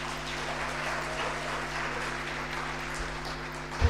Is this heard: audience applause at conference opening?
yes